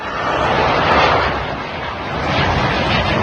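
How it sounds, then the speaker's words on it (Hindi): A loud, deep explosive roar from a drone attack blast rumbles continuously for a few seconds, harsh and heavy, with no voices. "जोरदार भीषण होता है धमाका, ब्लास्ट।"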